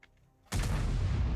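A tank cannon in a tank video game fires one heavy, booming shot after a quiet moment, the blast rolling on as a sustained low rumble up close.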